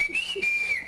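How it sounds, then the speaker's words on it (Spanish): A person whistles a single sustained, slightly wavering high tone lasting about a second, close and clear, with a faint brief voice beneath it. "Silbido."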